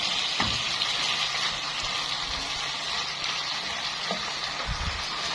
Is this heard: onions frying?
yes